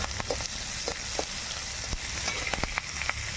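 Green chilies and chopped ginger frying in oil for an amla pickle, a continuous close sizzle with scattered sharp crackles and pops, no talk.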